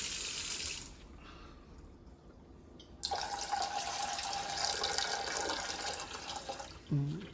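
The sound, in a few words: filling a cup with water from a tap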